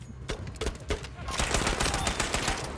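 Grease Gun submachine gun firing in Battlefield V, rapid close automatic bursts that build into sustained fire across the whole stretch.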